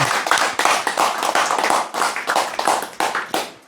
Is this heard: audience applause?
yes